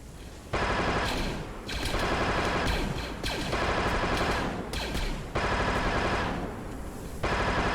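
Sustained automatic gunfire in a Star Wars Mandalorian open-world campaign game, loud dense bursts of several seconds each separated by short pauses, with no talk.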